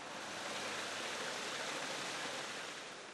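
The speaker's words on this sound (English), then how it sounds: "For other people it might be an area in the garden, like this waterfall." A garden waterfall gives off a steady, even rushing hiss, a continuous soft wash of falling water with no other sounds.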